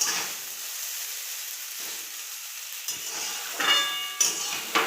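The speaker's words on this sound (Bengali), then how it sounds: "এভাবে ভালো করে নেড়ে নেব, নেড়ে ভালোভাবে ভেজে নেব এমনভাবে।" Chow mein stir-fried for an egg roll, hissing and sizzling steadily in the pan with a few scraping bursts from the stirring utensil near the end.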